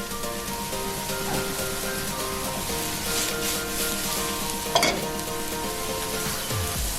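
Onions sizzling and frying in a pot while a spoon stirs them, a steady crackling hiss with occasional scraping clinks of the utensil, close and continuous with no talk.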